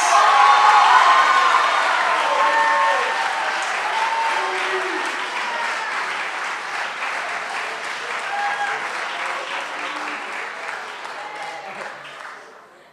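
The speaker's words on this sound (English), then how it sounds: "Would you guys please give a round of applause for Kaya Montes?" Applause from a school audience at an awards chapel, a steady wash of clapping that is loud at first and tapers slowly over about twelve seconds, with a few scattered cheers and voices mixed in.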